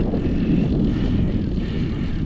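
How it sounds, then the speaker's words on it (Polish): Propeller airplane passing overhead, a loud steady engine drone filling the whole moment with no break. "Zobaczcie, jak samolot leci."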